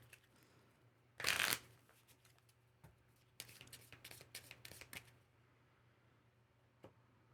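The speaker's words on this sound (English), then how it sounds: "We gotta shuffle the deck." A deck of board game cards is shuffled near and quietly, with one sharp riffle burst followed by a run of lighter flicks and taps in a quiet room.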